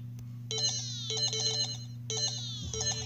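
Loud chiptune music from an 8-bit RPG video game plays in repeated bright electronic phrases of chiming tones over a steady low drone, close and continuous, with no talking.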